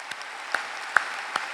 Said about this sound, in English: Let's have a round of applause for these individuals.